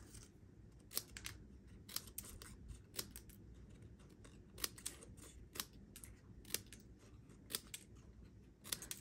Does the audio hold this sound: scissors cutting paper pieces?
yes